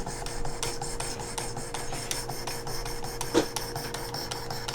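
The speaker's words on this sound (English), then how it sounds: "So you just work it down. Just keep going. And this shouldn't take, go 2 passes and be done." A steel broadhead is drawn across a sharpening stone in repeated rasping passes, a steady scraping rhythm heard up close with one sharper scrape near the end and no speech.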